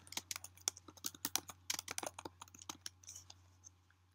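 Quiet, close computer keyboard typing, a quick irregular run of key clicks that slows and trails off, over a low steady hum.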